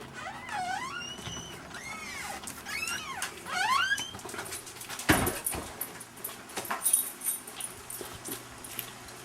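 Dogs at M&M Auction House whimper in a series of high, rising and falling whines over the first few seconds, then a loud thump and scattered rustling follow.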